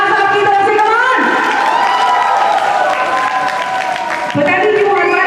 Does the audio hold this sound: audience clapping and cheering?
yes